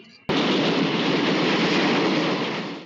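A runaway express train from a film roars along the rails after an abrupt loud onset, a dense steady rumble that holds for a few seconds and then begins to fade slightly.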